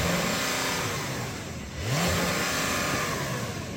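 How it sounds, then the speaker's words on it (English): Close and loud, a sports car engine revs in park with sport mode on, climbing steadily against a soft rev limiter, dipping briefly before surging again into a sustained high drone. "So I'm going to put this car in sport mode and then I'm going to rev it, but it's got a soft limiter."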